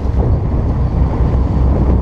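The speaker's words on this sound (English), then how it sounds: "Right, cut back on the engine." Fishing boat engine at sea off the Isle of Wight during porbeagle shark fishing: a loud, continuous low rumble mixed with heavy wind buffeting and water wash, with no voices.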